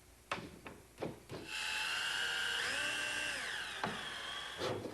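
A power drill drives screws into wooden boat pieces, with a few sharp knocks first and then a sustained whirring run that rises and falls in pitch, close and alone.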